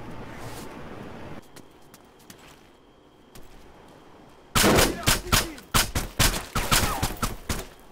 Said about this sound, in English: I think he's shooting at me.